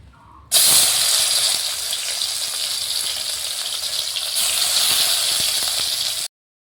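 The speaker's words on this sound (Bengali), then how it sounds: "তেলটা আমার গরম হয়ে গেছে এবার কড়াইয়ের মধ্যে দিয়ে দেব এটা" Fresh coriander leaves dropped into hot oil in a wok burst into a loud, bright sizzle that starts abruptly and holds steady, close up, for about six seconds before cutting off.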